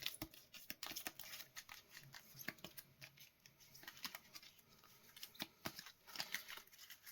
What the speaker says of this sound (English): all the B cards, shuffle them